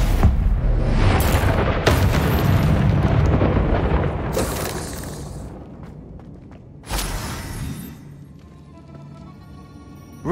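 Confringo spell blasts in the video game Hogwarts Legacy: a run of heavy booming explosions with whooshing bursts, loud and close, several impacts across the stretch before fading to a lower rumble and a final pop.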